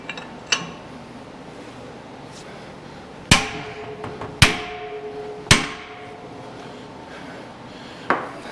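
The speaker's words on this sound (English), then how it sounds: "I'm giving it a good beating." Hammer blows striking a wrench during rear axle seal work on an IH 1086 tractor: five sharp metallic impacts, close and loud, irregularly spaced with ringing decay and no talk.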